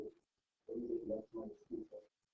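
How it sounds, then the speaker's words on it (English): Pigeon-like cooing in a quiet room, several soft rounded coos in two short bursts separated by a pause, faint and close, with no talk over it. "Enough bird calls."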